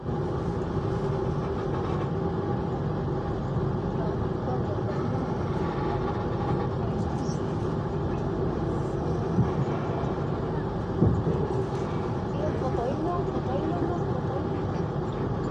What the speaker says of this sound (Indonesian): KA Jayakarta diberangkatkan kembali dari stasiun Gombong jam 21 lebih 2 menit.